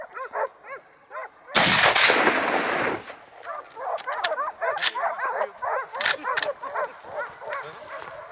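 Repeated hunting dog barks, several in a row and fairly close, during a wild boar hunt in Türkiye, interrupted partway by a loud burst of broadband noise like a nearby blast.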